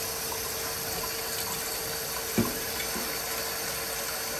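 Steady running water from a tap fills a pot, a continuous hiss with one brief clunk partway through.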